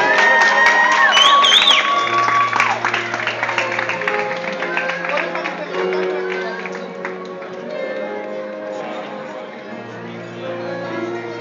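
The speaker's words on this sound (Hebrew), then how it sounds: "תנו להם מחיאות כפיים, לגשת לחופה." Wedding guests cheer and applaud the bridesmaids as they walk to the chuppah, a loud, close crowd burst that slowly eases off, with music and voices mixed in.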